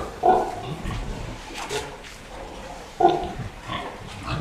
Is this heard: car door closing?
no